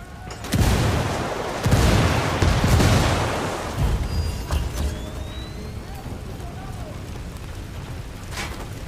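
A frag grenade goes off in the video game Ghost Recon Wildlands, a loud broadband blast with rumbling debris that swells over a couple of seconds and then decays into a softer ambient wash.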